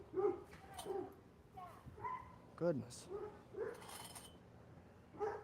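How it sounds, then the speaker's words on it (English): A neighbor's dog gives several short yips and barks at moderate distance, scattered among people talking close by. "The neighbor's dog likes to talk."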